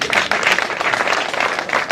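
Steady applause and clapping at a Rwandan wedding gift ceremony, a dense continuous patter of many hands lasting the full two seconds with no pauses, moderately loud and close.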